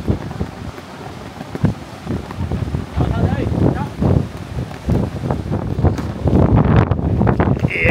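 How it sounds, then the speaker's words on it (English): Strong wind buffets the microphone on a rocky island coast, a steady roaring rush with gusty swells that grow louder toward the end, with possible surf in the background. "The wind is strong."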